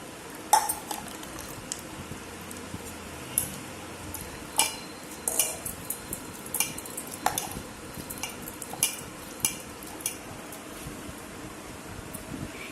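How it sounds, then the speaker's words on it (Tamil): Tamarind being dissolved in water by hand or spoon in a kitchen bowl, with repeated clinks and sloshing stirs against the vessel over a faint steady background hum, no talking. "புளியை வந்து கரைக்கணும்."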